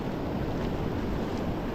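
Ocean surf washes onto an Oregon beach at Newport, a broad, constant roar of breaking waves mixed with wind noise on the microphone.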